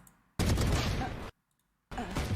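Phantom rifle fire in Valorant comes as two loud, dense bursts of rapid automatic shots with a short silent gap between them, heard close with no talking.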